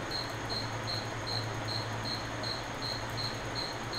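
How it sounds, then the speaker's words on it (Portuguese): Cricket chirps sound right at the microphone, a steady run of short high trills repeating about twice a second, loud and continuous over a low background hum. "o grilo tá cantando o microfone"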